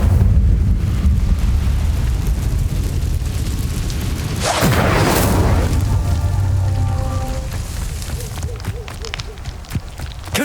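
The Incendio fire spell is cast in Hogwarts Legacy amid a loud, rumbling roar, with a burst of crackling, hissing noise in the middle that fades into a softer, fizzing tail.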